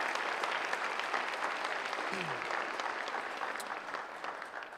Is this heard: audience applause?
yes